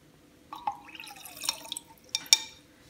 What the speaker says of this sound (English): Now we are going to pour the contents of our first and second tubes into the beaker at the same time.